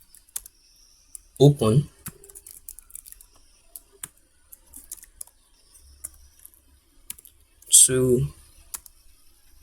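Computer keyboard typing, quiet scattered key clicks running throughout beneath two short bursts of talk.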